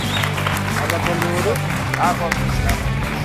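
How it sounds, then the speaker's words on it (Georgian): Studio audience applause on a Georgian TV game show, a dense, steady burst of clapping from a crowd, loud and continuous, with a voice and background music beneath it. "მიულოცოთ აპლოდისმენტები"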